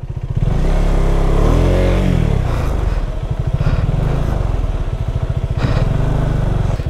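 A motorcycle engine revs and labours loudly up close as the bike slithers through thick mud on a flood-ravaged mountain road in Sikkim, throttle rising and dropping with clattering rattles, no talk over it.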